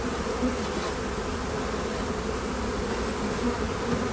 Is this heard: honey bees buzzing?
yes